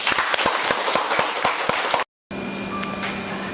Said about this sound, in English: So let's give applause.